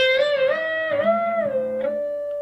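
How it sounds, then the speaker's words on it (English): A sustained guitar note rings steadily with extra overtones from neighboring strings humming along, a slightly messy, unmuted shimmer with no talking. "You hear other strings ringing, you don't want that."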